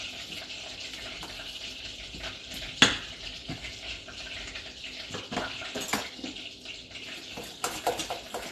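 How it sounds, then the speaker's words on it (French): Butter browns in a pan into beurre noisette, giving a faint, steady sizzle with a sharp clink and some stirring scrapes, and almost no talk. "Mon beurre noisette est bientôt prêt."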